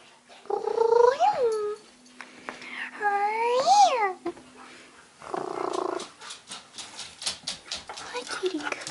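A cat gives two long, wavering meows close by, followed by softer chirps and a low rumbling purr, with a person talking gently in between.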